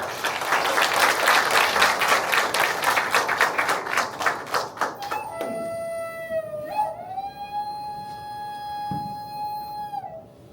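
An audience claps steadily at a Korean traditional singing performance; the applause fades after about five seconds as a sustained, wavering solo singing voice begins alone.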